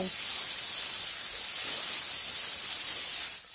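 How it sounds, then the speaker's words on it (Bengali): Loud, dense sizzling hiss of eggplant, beans and potato frying in hot oil, continuous and close, easing off slightly at the very end. "এখন আমি তিল বেগুন আর আলুটিকে একসঙ্গে বেজে নেব"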